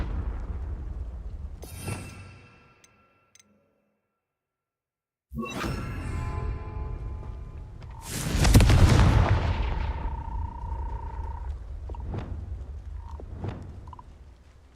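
A Confringo fire spell cast in Hogwarts Legacy erupts in a loud explosive burst with a crackling, rumbling tail, after earlier game effects and a stretch of silence, followed by smaller impact pops.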